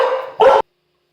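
Great Pyrenees dogs bark loudly close by, a long rough bark followed by a short sharp one before sudden silence, with no talk.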